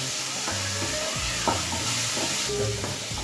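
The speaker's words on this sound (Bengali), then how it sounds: "পনিরটাকে লাল করে ভেজে নেব।" Chopped paneer with salt and turmeric frying in a kadai: a constant, close hiss of hot oil with occasional scraping stirs of a spatula against the metal, with no one talking.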